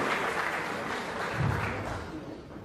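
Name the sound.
applause for the mayor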